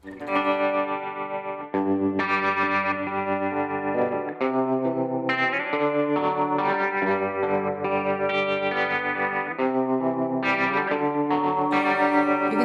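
Electric guitar with a tremolo effect for a slower alt-country song, sustained strummed chords pulsing in volume, full and steady, played alone without talking.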